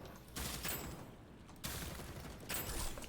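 Gunfire in the video game DeadZone Rogue, a PvE shooter: three sustained bursts of rapid automatic fire, moderately loud, separated by short pauses, with no talking.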